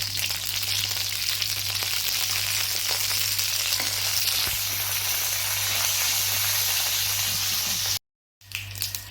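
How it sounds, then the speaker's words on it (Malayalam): Mustard seeds and green chilies fry in hot coconut oil, producing a loud, steady sizzle and hiss close by that runs continuously, then cuts out abruptly near the end before resuming briefly. "കുറച്ച് വെളിച്ചെണ്ണ ഒഴിച്ച് കൊടുക്കാം അതിലേക്ക് നമുക്ക് കടുക് ഇട്ട് കൊടുക്കാം പച്ചമുളക് ഇട്ട് കൊടുക്കാം"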